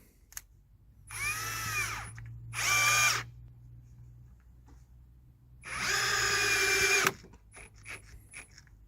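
A power drill drives screws into a wooden chicken coop in three whirring bursts, two short ones close together and a longer one later, rising in pitch and stopping abruptly, with faint clicks between.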